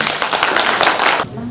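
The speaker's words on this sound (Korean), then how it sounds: "큰 박수로 맞이해주십니다." Audience clapping loudly to welcome a pansori singer at a Korean cultural academy event, a dense burst of applause lasting about a second before cutting off abruptly, with a voice starting just after.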